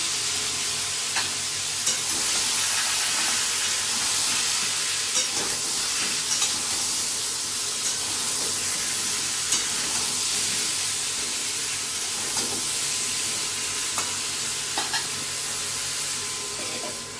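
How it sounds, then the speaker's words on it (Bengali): Ash gourd pieces fry in hot oil in a pan, a loud, dense hissing sizzle sustained throughout with occasional light pops and stirring knocks; no talking. "তেল গরম হয়ে গেছে, এরপর চাল কুমড়োগুলো আমি ভেজে নিচ্ছি"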